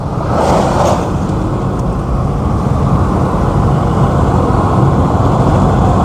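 A car accelerating in third gear from just over 40 up to about 50 mph, heard from inside as a loud, steady engine and road drone that holds throughout.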